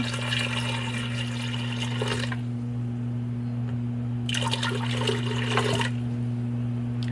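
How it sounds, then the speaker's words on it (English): Water splashes and pours steadily into a pressure cooker in two separate bursts, with a steady low hum running underneath throughout. "I'm going to pour the whole 3 cups in here"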